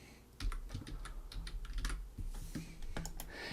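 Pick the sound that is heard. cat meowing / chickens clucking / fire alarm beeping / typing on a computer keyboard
typing on a computer keyboard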